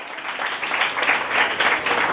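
A congregation claps in a short burst of applause, many hands patting together in a moderately loud, swelling wash.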